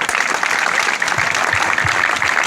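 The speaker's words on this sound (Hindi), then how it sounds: "तालियां भी देना" Sustained applause from a school audience at a government school cultural fair, dense steady clapping filling the whole stretch with a few low thumps underneath.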